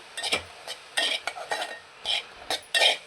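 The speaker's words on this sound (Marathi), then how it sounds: "सात ते आठ मिनटं लागतात रवा भाजायला" Semolina (rava) dry-roasting in a pan for coconut rava modak, stirred in close, quick scraping strokes, about eight short bursts over a few seconds with no talking.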